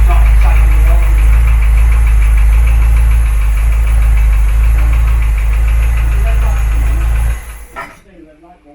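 A Ford Cortina Mk3 engine idles loud and close with a deep, steady rumble and faint knocking, then cuts out abruptly near the end, with voices talking over it.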